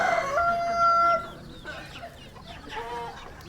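A rooster crows loudly and close by in a chicken coop, one long call followed by clucking and softer fowl noises.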